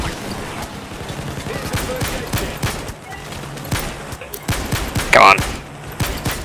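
Sustained gunfire in the video game Payday 2, a dense barrage of rapid shots near and far with louder bursts, while players talk over it.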